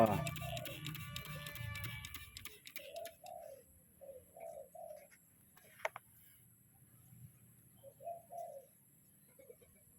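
A spotted dove coos in repeated short phrases of two or three soft notes, moderately close, with pauses between, after an opening of mixed background noise and scattered chirps.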